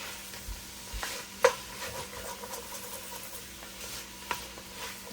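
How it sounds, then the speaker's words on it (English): Peppers and onions cooking in leftover sausage oil in a pan, a quiet sizzle broken by spatula stirs and scrapes, one sharper clink of utensil against the pan. "the oil that was in here from the sausage is going to help cook the peppers and the onions too"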